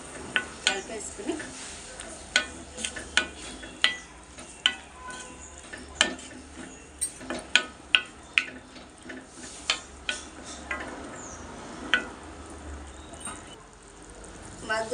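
Mutton cooking with ridge gourd is stirred in a pan, a spoon knocking against the metal in repeated sharp scrapes and taps over a soft sizzle.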